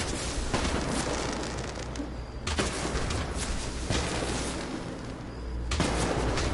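Fireworks shells launching and bursting in staggered sequence in Fallout 4's Pyrotechnics Mill on a foggy Far Harbor night: a dense, continuous rumble of crackling explosions with sharper booms every second or two, loud and unbroken.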